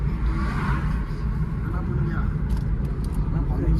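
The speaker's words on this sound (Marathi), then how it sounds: "मी गाडी चालवत आहे" A car driven late at night on a cold road, its engine and tyre rumble steady and close throughout, with a broad road roar and a faint whoosh near the end.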